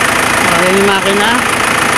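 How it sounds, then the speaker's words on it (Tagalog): A noisy diesel motor idles close by with a loud, steady rumble and faint knocking hum that holds evenly for the whole stretch, with no talk over it. "ganyan pa rin yung tunog niya. At yung bago, ganyan din. Maingay lang talagang diesel mo engine, motor."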